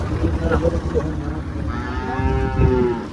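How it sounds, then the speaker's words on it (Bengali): Cattle unloaded from trucks at a busy cattle market in Faridpur, Bangladesh, let out a long, loud, drawn-out moo, with crowd bustle and a shorter low call heard beforehand. "এই ট্রাকগুলা গরু আনলোড করলো"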